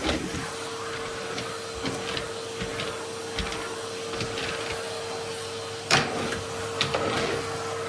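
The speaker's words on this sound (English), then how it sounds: "But I just want to give this a bit of a vacuum." A household vacuum cleaner fitted with a hand tool drones steadily, with a constant motor whine and occasional knocks and scrapes as the nozzle moves over surfaces; no one speaks.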